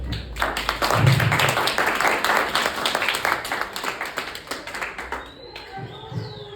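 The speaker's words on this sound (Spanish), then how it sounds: "Dale un aplauso al Señor" A church congregation claps together, dense and fairly loud, for a few seconds before the sound thins and fades toward the end.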